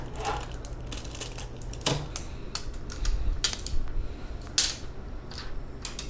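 Protective plastic film is peeled off an ASUS TUF RTX 3090 graphics card, giving close, irregular crackles and sharp snaps with short quiet gaps between them.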